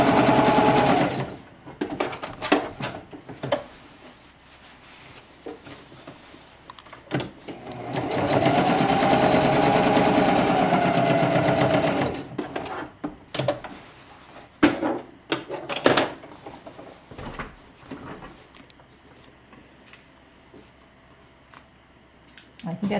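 A sewing machine stitches fabric pieces for a curved art banner, running straight over pins in a steady, loud whirring burst, with shorter starts, stops and handling clatter around it.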